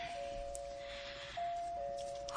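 A doorbell chimes in long, steady electronic tones, sounding twice in a row, fairly quiet against a faint room background.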